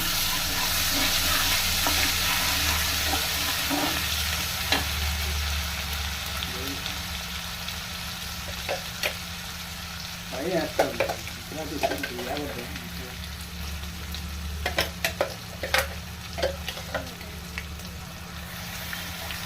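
Gentle sizzling in a pan with a low background hum, broken by occasional clinks and scrapes of a spoon stirring spices with coriander seeds for paneer masala, no talking.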